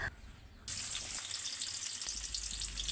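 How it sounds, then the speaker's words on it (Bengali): Sliced onions frying in hot oil for a curry, a steady bright sizzle that jumps louder after a brief quieter start and then holds close and continuous. "এখানে আমি তরকারির জন্য পেঁয়াজটা বেরিস্তা করে রাখছি"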